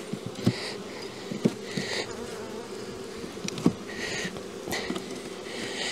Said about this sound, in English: Why are bees everywhere?